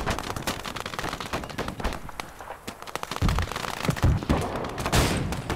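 Soviet BT tank cannon in the Gates of Hell WWII battle game booms repeatedly amid a dense crackle of rifle and machine-gun fire from charging infantry, loud and continuous with heavy low thumps near the end.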